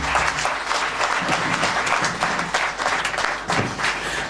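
Loud, energetic applause from a congregation at a thanksgiving and jubilee service, dense clapping in rolling surges that rise and fall without stopping across the whole stretch.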